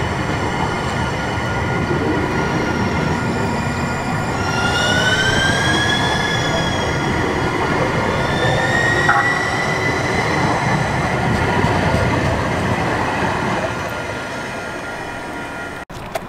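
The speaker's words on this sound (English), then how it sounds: "we got the trolley right here, our Pacific Surfliner, our coaster." Trains in San Diego, among them the trolley, Pacific Surfliner and Coaster, rumble loudly past. Wheels squeal in rising, whining tones partway through, then the noise fades near the end.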